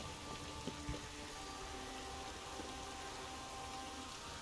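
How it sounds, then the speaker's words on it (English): Rain in The Witcher 3 falls as a soft, even hiss, quiet and continuous, with a couple of faint thumps early on and no talk. "I like rain. Keeps the rogues indoors."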